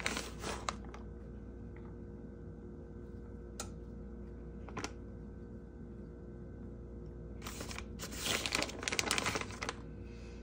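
A plastic bag of shredded cheese crinkles in short bursts, with a louder stretch of rustling as it is handled and poured, over a quiet background hum.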